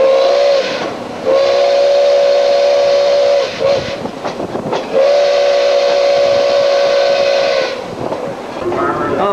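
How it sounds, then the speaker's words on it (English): A passenger train on the St. Thomas to Ingersoll rail line sounds its steam-style whistle for a level crossing: two long, loud, steady blasts with a short pause between them, heard close by over rumbling wheels. "they just whistle for this crossing"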